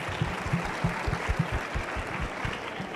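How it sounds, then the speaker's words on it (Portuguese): Clapping rises from an audience at a youth education congress, a moderate spread of applause with distinct low thumps of individual claps, heard from a middle distance. "Palmas."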